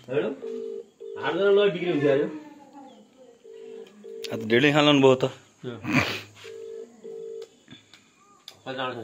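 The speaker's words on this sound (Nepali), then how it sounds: "अब हजुरआमालाई नि फोन हान्नै पऱ्यो" A mobile phone call to a grandmother produces repeated short, even tones in evenly spaced pairs, heard between and under a person's nearby talking, with a few brief bird-like sounds in the background.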